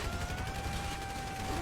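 Gunfire from a rampage in GTA 5 story mode, a dense continuous rattle of shots and mechanical noise with no speech over it.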